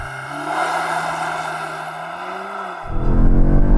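Audi S3 launching hard from a standstill in dynamic plus mode, a loud engine note climbing steadily in pitch, then a sharp gear change and a surge of louder, rougher roar right up close.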